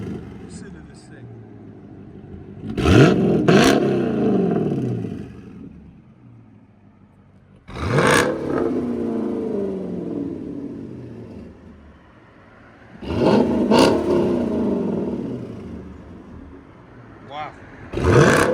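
A Procharged Dodge Charger 5.7L with a muffler delete revs loudly three times close by, each rev climbing sharply and then falling back to a rumbling idle, as people talk briefly around it.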